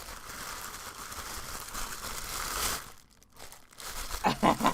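Plastic mailer wrapping around a squishy package of yarn is crinkled and torn open up close, with soft rustling and a few sharp crackles near the end.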